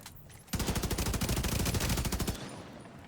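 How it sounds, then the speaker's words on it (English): Sustained burst of rapid automatic gunfire from a distant weapon in a video game, a dense rattling string of shots lasting about two seconds before cutting off, with no talk. "Some weapon in the distance is just shooting."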